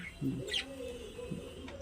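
Budgerigars chirping and warbling inside an indoor bird house, faint and scattered, with a low cooing and a few brief calls.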